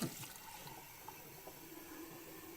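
Sacramento tap water runs steadily from a faucet, a continuous close hiss of flowing liquid with a brief splash at the start and no talk over it.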